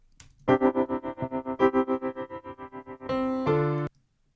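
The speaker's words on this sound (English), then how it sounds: "So this is a static 7 hertz tremolo" A 7 Hz tremolo effect applied to audio in a DAW makes a sustained, distorted synth-like tone pulse rapidly in volume, about seven even swells per second, then shift into a steadier brighter tone before cutting off.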